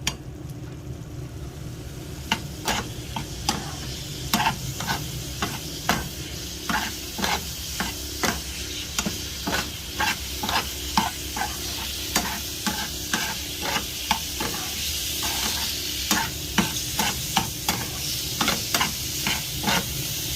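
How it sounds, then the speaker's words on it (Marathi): Black pepper chicken coated in masala and red chili powder is stir-fried in a pan, a steady sizzle broken by regular scraping strokes of the spatula, close and fairly loud, with no talking. "ह्याला चांगल्यापैकी परत परतवून घ्यायचं."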